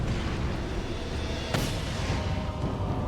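A grenade blast in Resident Evil 4 swells into a dense, roaring rumble that fills the clip, with a sharp crack midway and no voices.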